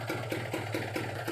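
Kawasaki Ninja two-stroke motorcycle engine idling on a cold morning, a close steady putter with regular rapid pulses and a low hum, no talking.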